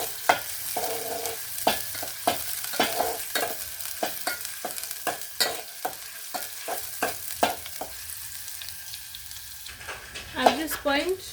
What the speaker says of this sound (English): Now you add in your oil, then you add these onions